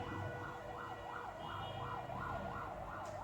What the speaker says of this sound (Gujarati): એમ્બ્યુલન્સ આવી લાગે છે